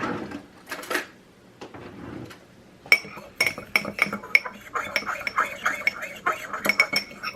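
A fork stirring a lemon pepper seasoning mix in a bowl, with quick, bright metallic clinks and scrapes against the bowl in a fast, uneven rhythm after a few softer rustles, close and fairly loud.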